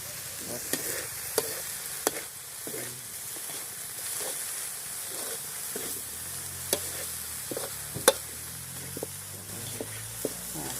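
Spicy field rat being stir-fried in a pan, a soft continuous sizzle broken by scattered sharp clinks and scrapes of the spatula stirring, close and without talk.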